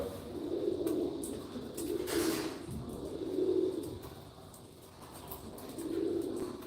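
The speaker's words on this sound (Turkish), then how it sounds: "Bunlar Mardin'in gerçekten çok eski kuşları" Old Mardin pigeons give low, rolling coos in about four separate phrases spaced a second or two apart, close and moderately loud over a quiet background, with a brief swishing noise near the start.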